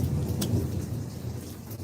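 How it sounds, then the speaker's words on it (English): A thunderstorm rumbles outdoors at night, a low rolling thunder mixed with steady rain, fairly loud and continuous throughout, no voices. "I just heard that lightning flash"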